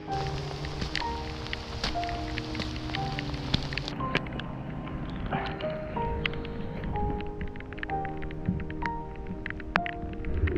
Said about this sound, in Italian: È iniziato a piovere di brutto,